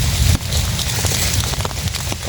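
Rain pours in a forest during a mushroom-foraging trip, a loud continuous patter and hiss with scattered sharper drops close by.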